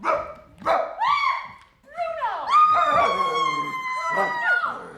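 A dog barks and yelps several times up close, the sharp barks breaking into drawn-out, howling whines, with no talk over it.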